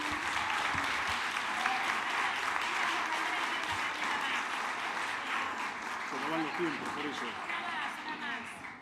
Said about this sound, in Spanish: El aplauso es para ella, sí.